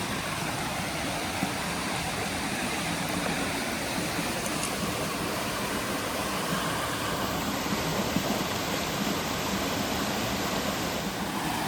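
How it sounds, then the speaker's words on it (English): A small rocky stream feeding into a larger river, water rushing steadily over rocks in a close, dense, even wash that stays constant throughout, with no voices. "This seems to be a smaller stream that feeds into that big river."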